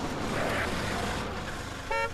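A car horn gives a short, sharp toot at the very end, following a couple of seconds of faint, hissy background noise in a street scene.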